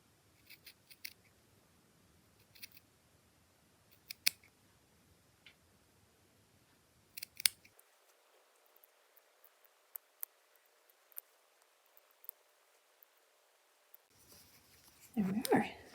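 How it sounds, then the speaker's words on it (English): Scissors snipping through the central knitted stitch of a steek, a scattered run of faint, close, sharp little clicks and snips with long quiet gaps, and a brief rustle of handling at the end. "The plan is to cut up this central stitch."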